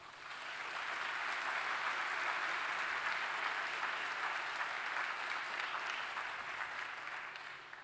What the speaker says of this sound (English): Let's give RIT a round of applause.